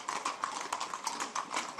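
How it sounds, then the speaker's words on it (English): Horses' hooves clatter on a street in Spain's Castilla-León region during a bonfire festival, a dense, fast run of clip-clop beats at moderate loudness with no talk. "Riders urge their horses to leap through bonfires on the streets of San Bartolomé de Piñeres in Spain's Castilla-León region."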